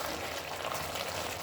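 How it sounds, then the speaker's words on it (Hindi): Steady, soft sizzling and crackling of chicken intestines frying in a hot pan, continuous and close, with no voices. "अभी हम इसको कुछ देर के लिए भूनेंगे"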